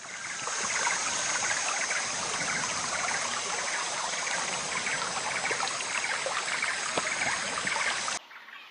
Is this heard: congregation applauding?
no